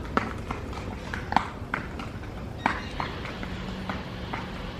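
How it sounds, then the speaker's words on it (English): Donkey hooves clip-clopping on a Puerto Vallarta street in Mexico, a loose run of sharp taps at uneven spacing, moderately close, over a low outdoor background murmur. "Henry, do you see the donkey?"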